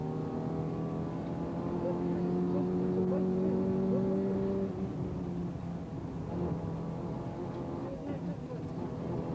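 A Vauxhall Astra rally car squeezes past another car on a narrow road at the 1994 Manx Rally, its engine note rising and sweeping by up close before fading into rough background rumble.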